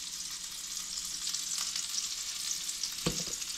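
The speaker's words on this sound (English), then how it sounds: "So I've sauteed the onions down probably about halfway." Onions sauté in a pan with a steady, close, hissing sizzle that holds at even loudness, plus a brief scrape or clunk of a utensil near the end.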